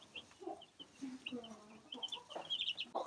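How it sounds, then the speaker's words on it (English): Hens and a rooster from a flock of about two dozen birds cluck steadily in a poultry yard, with overlapping close and mid-distance calls that grow busier toward the end. "we have our 25 full-grown hens, and then maybe it's 24 hens and 1 rooster"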